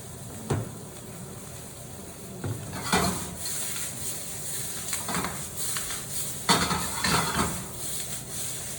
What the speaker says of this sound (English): it's a really, really hot, huge stir fry